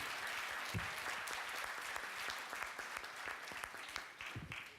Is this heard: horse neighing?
no